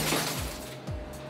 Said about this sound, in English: The chute takes them outside and drops them into a glass crusher.